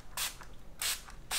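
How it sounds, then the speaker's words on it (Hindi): Face toner is sprayed onto the face and neck in three short, crisp hissing bursts, close to the microphone with brief pauses between them. "डायरेक्टली अपने फेस पे और नेक पे स्प्रे कर लेना"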